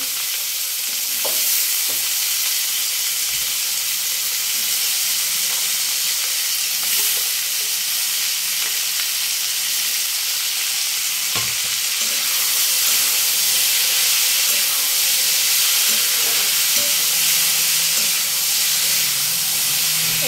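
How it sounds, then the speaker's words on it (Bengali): Cauliflower frying in a pan gives a loud, steady hiss and sizzle that runs without a break, with faint occasional stirring clicks and no talk. "অনেকদিন ধরে ফুলকপিটা আনা হয়েছিল, খাওয়া হয়নি, তাহলে ভাজাই করি।"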